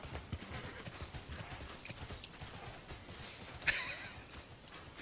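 A horse mount in a video game trots along with steady, rhythmic clip-clop hoofbeats at moderate volume, with one brief sharp sound cutting in partway through.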